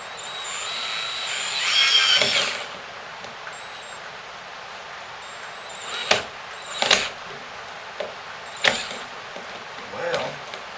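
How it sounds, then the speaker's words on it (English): A power drill drives screws into the wood of a handmade soap display box in a wood shop, with a long whirring run followed by several short, sharp bursts, up close and loud, with no talking. "going to put the screws in"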